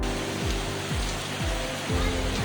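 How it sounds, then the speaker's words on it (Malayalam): Heavy rain pours down in a dense, constant roar, with a low engine-like hum repeating underneath. "ഞങ്ങൾ വന്നപ്പോൾ തുടങ്ങിയ പെരുമഴയാണ്"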